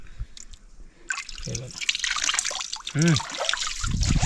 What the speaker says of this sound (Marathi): प्रॉपर एक झरा आतून येतोय